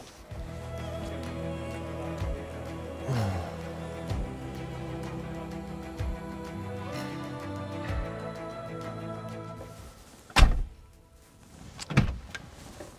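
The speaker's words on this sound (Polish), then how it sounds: "Czy wy słyszeliście, jak te drzwi się zamykają?" A Volkswagen Golf GTI's door is shut, a solid thump near the end after a long stretch of quiet mechanical clicks and whirs, then a second softer knock follows.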